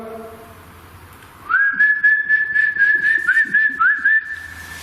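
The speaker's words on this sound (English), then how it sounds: "I heard a whistle." A clear, loud whistle follows a short stretch of low hum, the pitch warbling and wavering in a string of quick trills for a few seconds.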